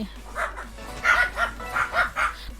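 A dog barks in a rapid series of about six sharp, mid-loud yaps over a low background hum, with no talking.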